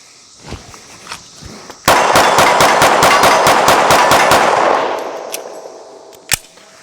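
Rapid string of about fifteen loud, sharp pistol shots from a Smith & Wesson M&P Carry Comp fired close by at a range, evenly spaced in a fast burst, with a few quieter clicks and handling noises before and one more distant crack after.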